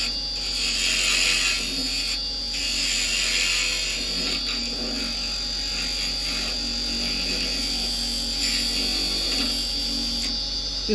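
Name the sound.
wood lathe with big chuck slowing down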